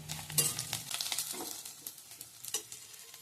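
Green chillies with garam masala and coriander-cumin powder sauté in a pan, a faint, uneven sizzle broken by soft stirring scrapes and light clinks, with no talk.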